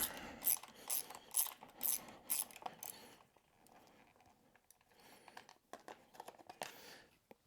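A ratchet with an 8mm socket loosening the side cover bolts on a GPX Moto E60 electric pit bike, a rapid series of close, crisp clicking bursts, then quieter fiddling and a few light taps.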